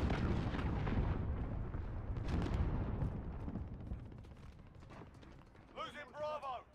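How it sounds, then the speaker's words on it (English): A cruise missile strike in Call of Duty: Modern Warfare rolls in as heavy rumbling explosions and blasts that gradually fade, with a voice speaking briefly near the end. "Allied cruise missile away."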